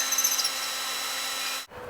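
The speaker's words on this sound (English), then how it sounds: "now I drill the rods back in" A power drill drives stainless welding rod into furnace bricks with a steady, close whirring buzz that runs evenly for over a second and a half, then stops abruptly.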